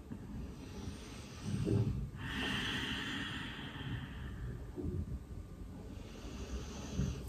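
Slow yoga breaths in and out come close and audible, a long airy exhale hissing through the middle between softer inhales, with faint room hum underneath.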